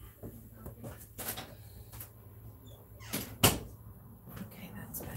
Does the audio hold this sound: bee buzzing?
no